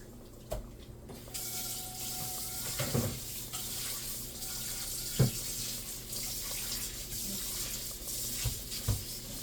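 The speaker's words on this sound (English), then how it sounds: "I'm gonna wash this pan" A kitchen sink tap runs steadily as a pan is washed under it, a continuous rush of water broken by a few sharp clanks and knocks of the pan against the sink.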